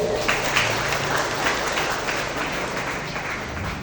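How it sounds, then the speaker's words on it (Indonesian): A crowd applauds at a Fatayat NU installation ceremony in Karangjengkol, a steady burst of many hands clapping that fills the whole moment, with faint voices underneath. "Tepuk tangan buat beliau."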